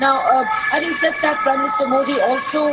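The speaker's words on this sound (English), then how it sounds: "You can hear the sirens whining behind me." Emergency sirens wail in the background, rising and falling steadily beneath someone speaking close by.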